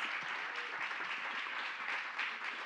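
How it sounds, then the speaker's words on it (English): An audience at an Advancing Equity plenary session in Atlanta gives a sustained round of applause, a dense, even roar of many hands clapping throughout, heard from within the room without talk over it. "Can I get a round of applause for these folks?"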